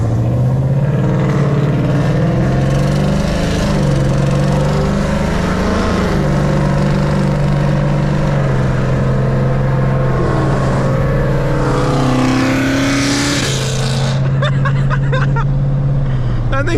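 Shelby GT500 Mustang engine accelerating on a road, a loud, deep, sustained roar with rising and falling revs, heard close up throughout with occasional faint voices.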